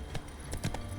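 A brief run of hoofbeats from Roach, the horse in The Witcher 3, a few sharp clops in quick succession, close and moderately loud.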